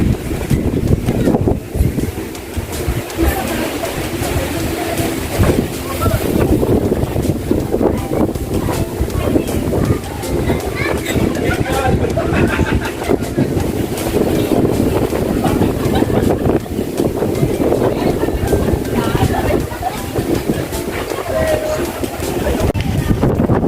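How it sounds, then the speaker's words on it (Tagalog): Strong wind buffets the microphone at a tropical beach resort in the evening, a constant loud roar with gusty rumbling and no clear break throughout. "pero ang lakas talaga ng hangin"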